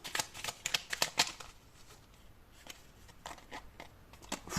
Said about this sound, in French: Alors, on va prendre une troisième carte.